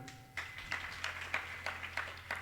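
A crowd claps in a slow, steady rhythm of about seven evenly spaced beats inside a Digambar Jain temple during a religious discourse, moderately distant with a faint hum underneath.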